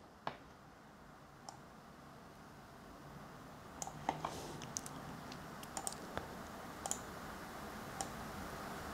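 Sparse, faint key presses on a computer keyboard in a quiet room, a few isolated clicks spread out with longer gaps, then a quicker cluster of taps near the end, with no talking.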